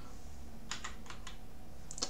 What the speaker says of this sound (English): And now I will type in my username